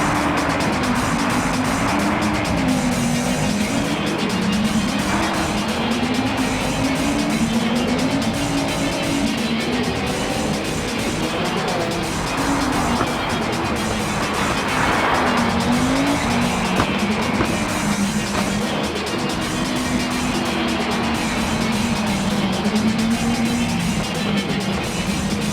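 A legendary Audi Quattro rally car in the Gran Turismo 7 video game drifts over a frozen, snowy track, its engine note rising and falling steadily beneath continuous tire squeal and skidding, loud and unbroken for the full stretch.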